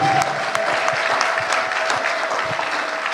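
A congregation at a Sunday service applauds and cheers for the Lord, producing a dense, loud wash of clapping and crowd noise that runs continuously throughout with no pause.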